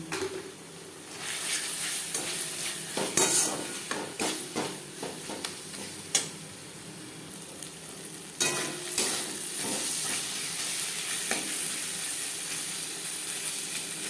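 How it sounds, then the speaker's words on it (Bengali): Spice masala fries on a medium flame while being stirred, a close, constant sizzle broken by repeated scraping and clinking strokes of a spoon against the pan. "চার পাঁচ মিনিট মিডিয়াম ফ্লেমে মশলা কষিয়ে নেওয়ার পর"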